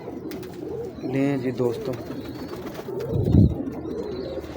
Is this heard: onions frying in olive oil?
no